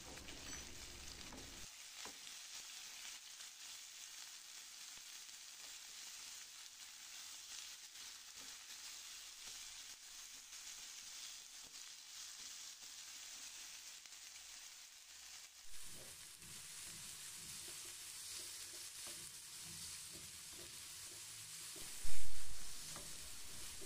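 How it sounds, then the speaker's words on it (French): Onions frying in vegetable oil in a pan, a constant close hiss and sizzle that shifts in texture partway through, with a single soft clunk near the end. "j'ai ajouté un peu d'huile végétale, je vais faire revenir les oignons"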